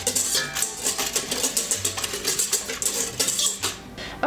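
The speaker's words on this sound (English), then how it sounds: "We're just going to whisk that around." Milk, salt and beaten egg are whisked together in a bowl for a beignet batter, the whisk clinking and scraping against the bowl in quick, repeated strokes close up.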